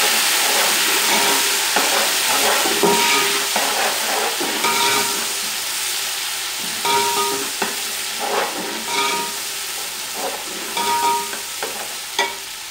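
Ground ginger and garlic sizzle and fry in a hot pan while a utensil stirs and scrapes intermittently, fairly close and loud, with no talking.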